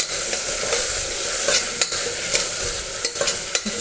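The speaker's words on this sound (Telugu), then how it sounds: "ఇప్పుడు కట్ చేసి పెట్టుకున్న ఆలు వేసుకొని ఒకసారి అంతా మిక్స్ చేసుకున్నాను" Cut potatoes are stirred into a sizzling cauliflower potato curry in a pan, a steady close frying hiss broken by scraping spoon strokes and light clacks against the pan, with no voices.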